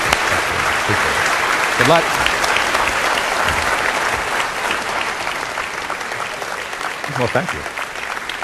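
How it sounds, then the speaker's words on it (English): Sustained, loud audience applause fills a session celebrating Sun Microsystems' Java open source progress, steady throughout, with a few brief spoken remarks heard over the clapping. "I want to really give you a round of applause for the changes you've driven"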